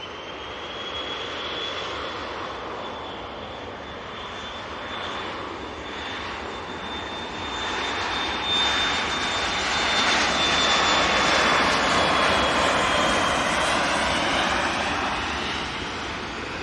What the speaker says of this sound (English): it is the Indigo 787-9 Dreamliner coming in from Delhi